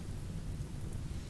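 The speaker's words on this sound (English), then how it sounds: "So we got lucky, some rain happened." Steady rain with a low rumble of thunder in the colony-sim game Rimworld, a broad constant wash of noise that stays faint and unbroken with no voices.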